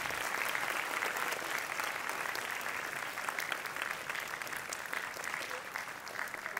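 Sustained, dense clapping from an audience at a primary school sports awards ceremony in Bangkok, steady and fairly loud throughout with no talking over it.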